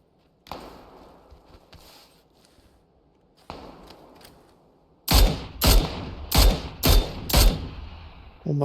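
Gunfire in the video game PUBG: a few scattered shots early on, then a loud rapid burst of about six sharp cracks in quick succession near the end, with no voices over them.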